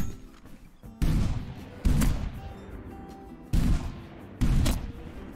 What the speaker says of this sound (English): You can fire these things extremely quickly, which is good because that's what you'd want in a semi-automatic shotgun.